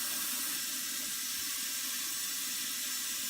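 Water runs steadily from a tap while sprouted barley is rinsed in a paint strainer, a continuous close hiss of flow splashing into a sink with no pauses and no talking.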